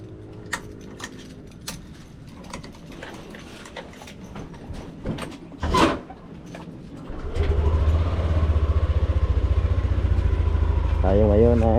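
A motorcycle engine starts at the beginning of a group ride, then idles in a steady low rumble after scattered clicks and a brief burst; talk is heard early on before the engine takes over.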